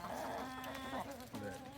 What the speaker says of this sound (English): So this is our new rooster.